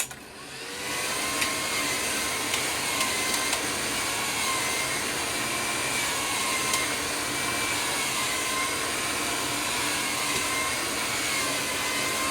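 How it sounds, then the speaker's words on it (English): A handheld hair dryer blows steadily while hair is dried for an 80s-style look, a continuous loud whirring rush of air that runs unbroken from start to finish with no talk. "while you're blow drying your hair"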